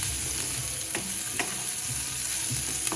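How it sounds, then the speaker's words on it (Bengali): Fish with chopped onion fries in a pan, giving a steady close sizzle and crackle with a couple of sharper spatters or stirring knocks, no talk over it. "এখন দিয়ে দিব মাছের মধ্যে পেঁয়াজ কুচি এই যে দেখেন পেঁয়াজ কুচি দিয়ে দিলাম"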